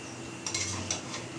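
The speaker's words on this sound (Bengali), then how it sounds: "এখন রান্না হচ্ছে চিকেন কষা" A spoon or spatula clinks against a pan while chicken kosha is stirred and cooked, giving a few brief metallic taps over a soft kitchen hiss.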